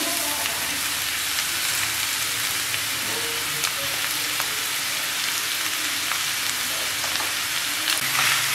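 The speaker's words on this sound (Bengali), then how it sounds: "এবার মাশরুমটাকে একটু আমি এই যে পেঁয়াজ রসুন আর মরিচের সঙ্গে হালকা একটু ভেজে নেব" About 250 grams of chopped mushrooms fry with onion, garlic and chili in a pan for a cream mushroom dish, giving a steady, even sizzle with light crackles throughout.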